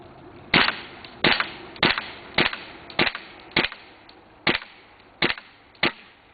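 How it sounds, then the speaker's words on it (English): A We Tech open-bolt SCAR airsoft rifle firing single shots, nine sharp snapping cracks spaced about half a second to a second apart, close and clear with no talking. "So I'm going to shoot until this mag is up"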